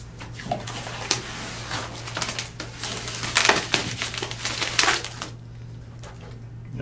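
Protective film being peeled off the edge of a freshly cut hole in a metal composite panel, a crackling, crinkling tear with irregular bursts that swell midway, then falls quiet, over a steady low hum.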